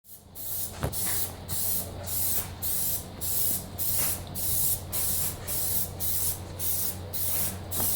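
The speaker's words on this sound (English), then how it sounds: "So now we're just going to plastidip it." Aerosol Plasti Dip coating sprayed onto a car part, about a dozen short, close hissing bursts in a steady rhythm with brief pauses between them.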